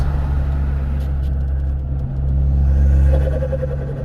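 A car engine drones steadily from inside the cabin, then a brief rapid fluttering chatter rises near the end as the throttle lifts.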